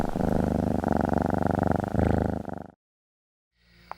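A cat purrs loudly and close up in a steady, rhythmic rumble for nearly three seconds, then stops abruptly into silence before faint room sound returns.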